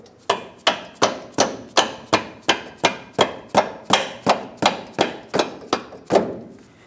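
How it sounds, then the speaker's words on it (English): Steel bolt being hammered through the front upper control arm bushing of a 2003-2009 Dodge Ram 2500 pickup, about sixteen sharp, evenly spaced metallic taps in a steady rhythm, close and loud with no talking. "If needed, tap the bolt through."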